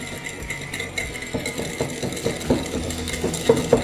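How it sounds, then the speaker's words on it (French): Egg yolks beaten with sugar by hand or with an electric beater while making a chocolate cake, a quick run of clicking, scraping taps against a bowl that grow louder and more rapid toward the end, close up with no talk. "Je vais blanchir les jaunes avec le sucre"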